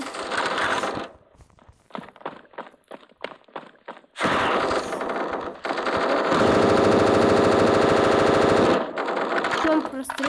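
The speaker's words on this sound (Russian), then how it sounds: "Это его автомат." An automatic rifle fires in a video game, first in short spaced bursts and then in long, loud rattling sustained volleys, with a player talking intermittently.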